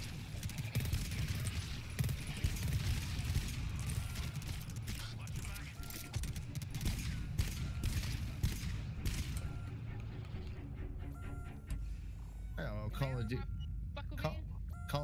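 Rapid turret gunfire from the co-op horror shooter GTFO, a dense loud barrage of shots filling the first nine seconds and then thinning out, with voices talking and shouting over it.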